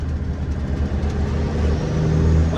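A 12-valve W350 dually truck, back on the road after a decade of sitting, drives with a steady low engine drone and road rumble that swell slightly as it pulls, loud and continuous with no talk.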